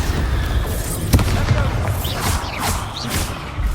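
A Bombarda spell blasts in the video game Hogwarts Legacy as a loud, low rumbling boom with a sharp crack, over a busy game soundscape.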